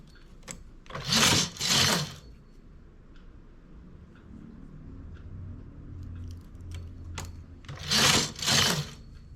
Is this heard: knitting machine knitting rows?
yes